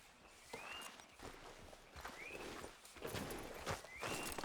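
Horse hooves clip-clopping in Red Dead Redemption 2, steady walking hoofbeats at moderate distance with faint whistles and outdoor ambience, fairly quiet throughout.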